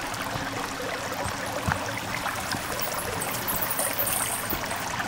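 Water flowing and trickling inside a cave in the video game Sons of the Forest, a steady close babbling stream with no talk over it.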